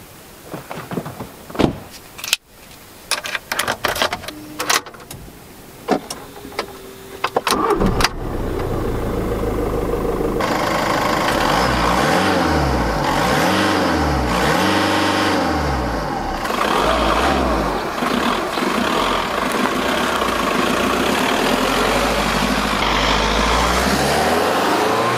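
A Volkswagen Golf V with the 1.9 TDI diesel engine starts after a few clicks and door clunks, then settles into a loud, steady drone as it pulls away and drives, engine note rising and falling through gear changes.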